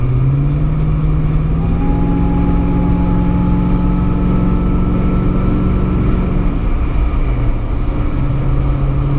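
Steady engine and exhaust drone from a supercharged Toyota Tundra pickup with a BAmuffler TRD replacement exhaust cruising at about 60 mph, a constant low rumble with a sustained tonal hum, continuous and fairly loud without talk.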